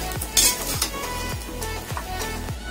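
Roasted onion, garlic, ginger and coconut scooped out of a hot kadai for Maharashtrian egg curry, with repeated scraping and metal spoon clinks against the pan in a steady rhythm, close and clear with no talk.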